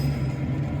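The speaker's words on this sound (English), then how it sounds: "it makes a horrible grating whining noise" A failing gearbox bearing in a 2017 Mercedes Vito makes a rough, steady mechanical grinding with a low droning whine, continuous and close, with no voices.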